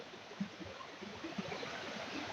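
A mountain waterfall in Rangaroon near Darjeeling, a steady broadband rush of falling water with soft low splashes, continuous and fairly quiet, with no voices.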